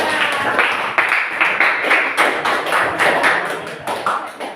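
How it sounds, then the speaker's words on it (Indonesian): A classroom audience claps for a student group, with distinct, fairly loud hand claps in an uneven rhythm, some individual slaps standing out over a thinner patter of clapping. "tepuk tangan untuk kelompok 2"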